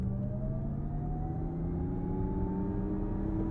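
A 2023 Lexus RZ 450e electric car accelerates at full throttle, its motor whine rising steadily in pitch over a muffled cabin rumble, smooth and continuous without gear changes.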